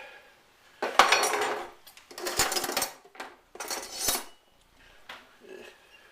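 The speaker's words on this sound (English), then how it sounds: "guess we'll use this big metal spoon here. Give it a stir." A big metal spoon stirring chicken noodle soup in a metal pot, with bursts of scraping and clanking against the sides in three main rounds, close and clear, with no talk.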